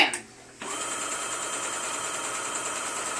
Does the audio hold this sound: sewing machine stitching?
yes